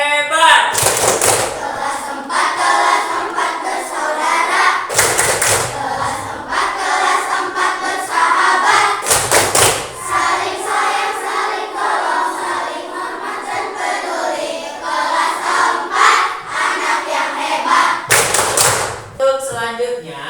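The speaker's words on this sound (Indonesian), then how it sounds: "Tepuk tangan hebat." A fourth-grade class claps together in an icebreaker, with sharp bursts of group clapping in a repeating pattern between stretches of children's chanting voices.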